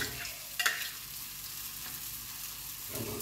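Saltfish fritters fry in a pan on a stove, giving a steady, faint sizzle and crackle throughout, with a brief louder clatter near the start like a spatula or stirring.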